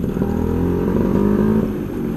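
A racing Vespa fitted with an AJS competition exhaust and an Agifast engine revs close by, a loud, rough, burbling drone that rises slightly in pitch before easing off.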